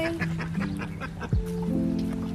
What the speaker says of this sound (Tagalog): sobrang dami ng itik